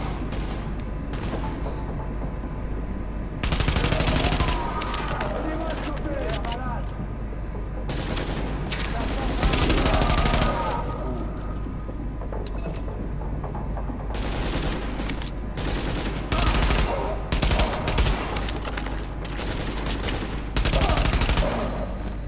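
Sustained gunfire from Tom Clancy's The Division, loud bursts and rapid automatic volleys recurring throughout with brief lulls, dense and continuous over game ambience.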